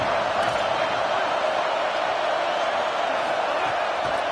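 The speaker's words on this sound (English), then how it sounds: "how nice is it to have the home crowd going absolutely bananas?" Home crowd in the CFB 27 football video game, Auburn against Florida, cheering loudly in a continuous, dense roar that stays even and unbroken throughout.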